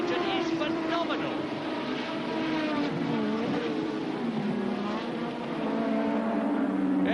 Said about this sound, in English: the power of the BMW engine is phenomenal